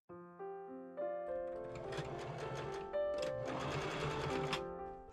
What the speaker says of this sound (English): I pin and machine sew the front seam with a straight machine stitch